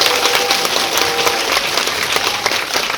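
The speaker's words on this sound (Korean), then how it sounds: "관객 여러분 그리고 이제 세 분께 큰 박수 드리면서 마무리하겠습니다" An audience at a Korean film screening Q&A gives a dense, sustained round of applause that stays loud and even throughout, with no voices standing out.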